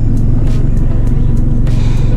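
A car engine idles low and rough, sitting near 600 RPM instead of the usual 800 to 900 and stumbling, a steady close rumble with faint pulsing throughout.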